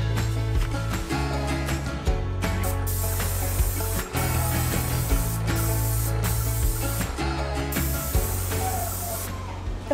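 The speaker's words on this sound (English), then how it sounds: "Dad came home with his paint sprayer, and he painted it off in a few hours" A paint sprayer coats kitchen walls with paint, making a loud, close, continuous hiss with rapid rattling pulses and a few brief breaks throughout.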